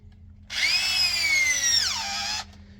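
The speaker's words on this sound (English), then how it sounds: "those are going to screw in right in there" A cordless power drill spins up and drives a screw into wood in the back yard, one steady high whine lasting about two seconds that drops in pitch as it seats, close and alone.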